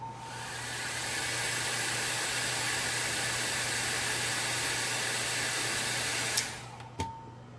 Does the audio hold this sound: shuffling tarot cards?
no